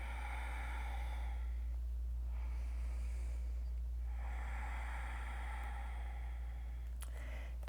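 Slow, deep breaths during a yoga hip stretch: long airy inhales and exhales come and go in a few broad swells, close and soft, with a brief sharper sound at the end and no talking.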